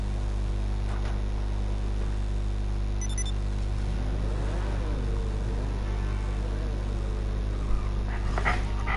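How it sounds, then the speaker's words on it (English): A dog inside a garage vocalising with whines and short yips over a constant low engine-like hum, moderately close and fairly quiet against the steady drone. "When you've got a dog staring you in the face and doing your head in"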